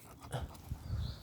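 A dog panting and snuffling close by in short, uneven bursts of breath, fairly quiet, with no talking.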